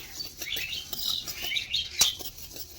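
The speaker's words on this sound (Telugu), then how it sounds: "పిచ్చుకలు చూసారు ఎలా అరుస్తున్నాయి" Sparrows chirping in quick, scattered bursts, fairly faint, with light pattering and rustling around them and no talking.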